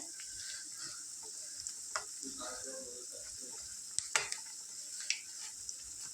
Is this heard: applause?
no